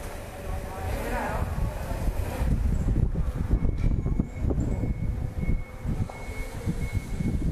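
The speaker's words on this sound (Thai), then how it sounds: "ลมก็แรงฮะ" Strong outdoor wind roars and buffets the microphone in heavy low gusts, loud and continuous, with a voice speaking faintly beneath it.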